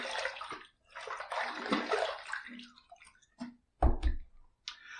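A shaving razor is rinsed under running water in splashing bursts with short gaps, close and moderately loud, ending with a few drips and swishes.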